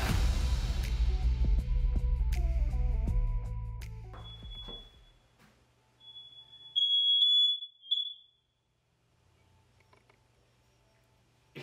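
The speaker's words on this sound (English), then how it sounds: "Super sensitive fire alarms. Just open the door of the oven and that steam rises out. Everything goes off, man." A super-sensitive household smoke alarm, set off by steam rising from an opened oven, sounds in several short, piercing high beeps after a fading mechanical clatter, then goes quiet.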